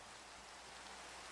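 Steady rain falls in the Minecraft video game, making an even, dense hiss of raindrops that is constant and soft, with no other sounds or voices.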